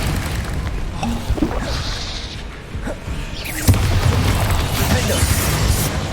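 A Confringo spell explodes in Hogwarts Legacy, a sharp booming burst about halfway through that rolls into a rumbling tail amid ongoing game ambience, with a voice talking over it.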